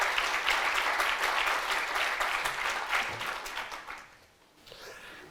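Audience applause at a French conference introduction, dense and steady for about four seconds before thinning out and fading near the end.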